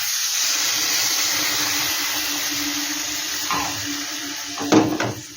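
Water poured into a pan of prawn malai curry, a steady broad hiss of pouring and simmering throughout, with a louder splash near the end.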